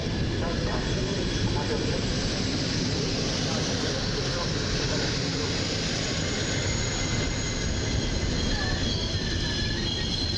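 Passenger train of nine carriages hauled by an EP08 electric locomotive passing a station: a continuous loud rumble with rolling wheel noise and a faint squeal, steady throughout with no break.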